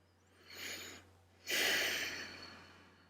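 Two slow, airy breaths during a yoga stretch for the hips and hamstrings, a softer inhale followed by a longer, fuller exhale, close and quiet over a low steady hum.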